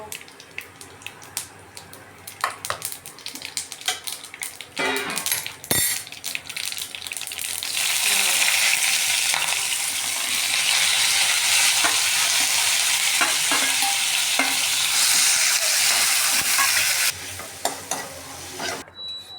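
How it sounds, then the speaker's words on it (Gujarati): Cumin and mustard seeds tempered in hot oil for dal: scattered clicks and stirring taps build into a loud, steady close sizzle lasting about ten seconds before dropping back to lighter crackles and stirring. "આપણી દાળ વખાઈ છે તો વઘાર કરશું આપણે જીરું નાખ્યું છે રાઈ નાખ્યું છે"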